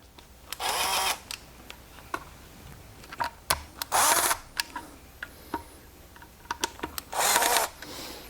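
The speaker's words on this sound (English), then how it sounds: "Got my drill set on 5" A cordless drill set on 5 whirs in several short bursts with pauses between, cross-tightening bolts on a HIblow HP80 air pump, close up, mixed with clicks and knocks of parts being handled.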